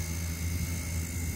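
A Blade Nano S2 RC helicopter hovers in stability mode, its small rotor giving a steady, faint whirring hum with no breaks over a brief stretch.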